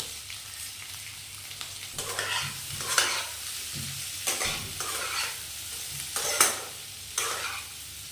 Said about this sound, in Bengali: এবার কেটে রাখা আলুগুলো আমি এর ভেতর দিয়ে দেবো